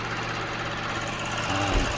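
Toyota Crown Athlete engine running steadily at idle, a smooth continuous hum and rumble with a slight swell in loudness near the end, no talk over it.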